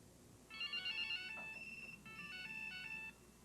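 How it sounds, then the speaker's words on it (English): A cell phone ringtone goes off in a classroom, a bright electronic melody in two repeating bursts separated by a short gap, moderately loud and close with no talk over it. "People's cell phones go off in class"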